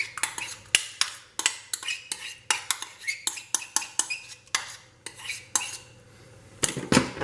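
Pasta carbonara with a cream mixture is tossed in a pan with bacon bits, giving close, rhythmic clinks and scrapes of a utensil against the pan, with a short pause near the end.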